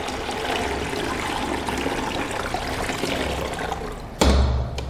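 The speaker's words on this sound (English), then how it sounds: "we're going to pour the whole filter pot down." Water is poured into the back of a Bravilor Novo commercial filter coffee machine, a steady close gush and trickle that ends in a sudden heavier splash near the end, with no talking.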